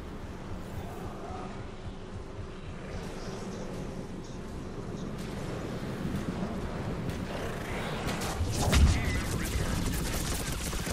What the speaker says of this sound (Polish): No i wybuch.